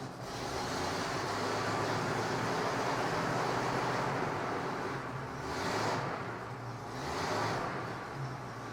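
A Buick engine on choke during a cold start runs loud and steady with a dense roar that swells twice as it is revved, with no talking.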